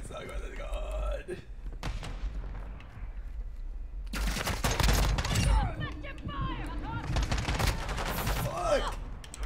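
Bursts of automatic gunfire rattle through a Call of Duty match, loud rapid shots in clusters with gaps between them, mixed with thuds and a player's voice talking over parts of it.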